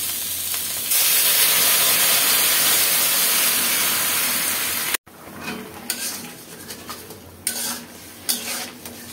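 Hot water pours into a pan of onion sautéed with salt, chilli and turmeric, a loud steady hissing rush for about four seconds, then a sudden break followed by quieter bubbling and scattered clinks of stirring.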